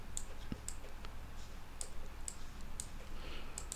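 Computer mouse clicks come one at a time in a quiet room, a sharp tick every half second or so, while someone works in PixInsight astrophotography software.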